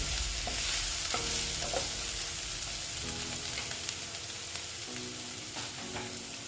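Something fries in a pan for an egg dish while a utensil stirs, producing a constant hissing sizzle punctuated by repeated scraping strokes every second or so, close up.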